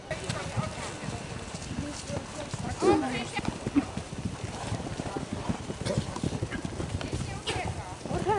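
Horses' hooves clip-clopping at a Hubertus hunt ride in Nowęcin, a quick irregular patter of many hooves close by, with a faint whinny and people talking under it.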